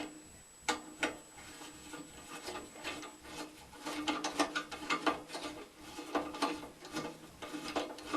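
Ratcheting clicks and metallic rubbing while a screw is worked loose from an old Vigilant stove, quiet irregular bursts of clicking close by with a faint steady tone at the start.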